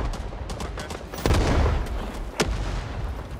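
Gunfire from the Rising Storm 2: Vietnam battlefield, with dense background shooting throughout, a loud close burst around the middle and a sharp report near the end.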